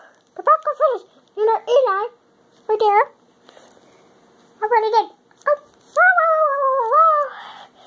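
A dog whimpers and whines in a string of high, wavering cries with short gaps between them, ending in a longer drawn-out whine, close and fairly loud, with no talking.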